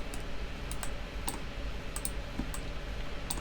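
Several crisp computer keyboard key presses for a software shortcut, isolated sharp clicks spaced irregularly over a low steady room hiss.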